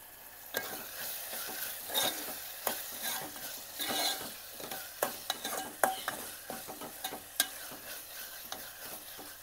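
Onion, tomato and bay leaf sizzle steadily in a frying pan while a spoon scrapes and stirs, with sharp clicks and knocks against the pan throughout, close up and without talk.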